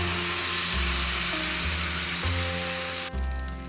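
Lentil batter hits a hot pan with cumin, coriander and fennel seeds, for a Bengali dhokar dalna, giving a loud, steady broadband sizzle with a low hum beneath and no voices.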